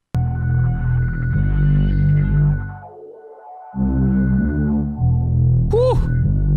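A deep synth bass line from the Damon instrument throbs in sustained, humming notes with a brief drop-out before it resumes, loud and up close, with a whooping sound at the end.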